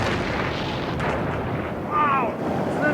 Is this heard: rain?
no